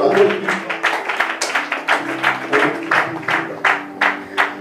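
A church congregation claps in steady unison, the rhythmic bursts repeating quickly over a low musical background.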